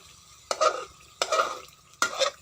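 Chili paste being stir-fried in a pan for a Thai fish dish: three separate bursts of sizzling and spatula scraping, each starting sharply and fading, close and fairly loud, with no talk.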